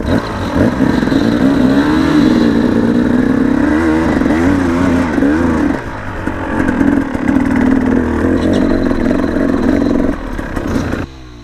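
A motorcycle engine pulls under constant power through mud, revving loudly and close with wavering pitch, dipping briefly midway before surging again.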